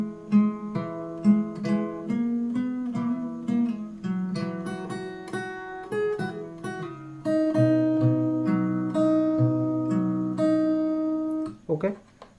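Fingerstyle acoustic guitar picking out the melody of a song, plucked notes and paired strings ringing in a steady phrase, close and clear with no voice until a brief shuffle at the end.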